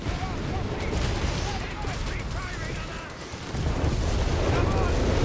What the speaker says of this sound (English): Got the whiz-bang here going for the Flak 30.